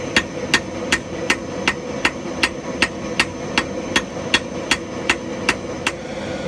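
Hammer blows forge-welding a steel tomahawk, an even rhythm of about fifteen ringing metallic strikes evenly spaced, close and clear over a steady forge hum.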